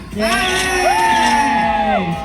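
A crowd of fans at a concert show in Bangkok shouts a word together, one sustained loud collective yell of roughly two seconds with rising and falling pitch.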